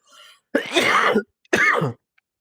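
Two harsh, throaty bursts close to the mic, a longer one followed by a short one after a brief pause, like coughing or throat clearing.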